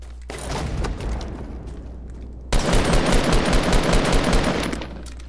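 Dense, loud bursts of rapid automatic gunfire in a team shooter video game, one long rattling stream followed by an even heavier, sustained volley with booming impacts, no talk over it.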